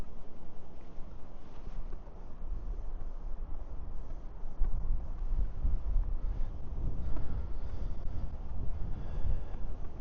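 Wind blusters outdoors on a cold winter day in the East Tennessee mountains, a continuous low rumbling roar buffeting the microphone for the full length with gusts rising and falling.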